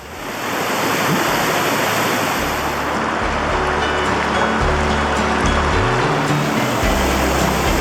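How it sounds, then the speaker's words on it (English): Rushing river water on North Vancouver Island, a creek swollen into a fast torrent, roaring loudly and steadily throughout with broad, continuous wash and a faint low rumble. "The flow of water, barely a creek in the middle of summer, changes into a raging river in the autumn."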